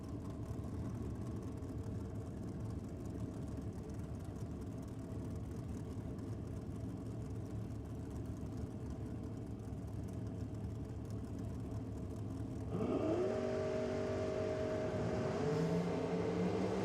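Drag racing cars with 600-plus cubic inch Chevrolet engines idle and rumble at a distance at a nitro drag meet, then rev up with a rising, whining tone near the end.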